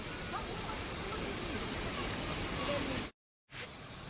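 Artificial waterfall fed by a canal, a steady, loud broadband rush of falling water filling most of the clip before a brief dropout, then resuming.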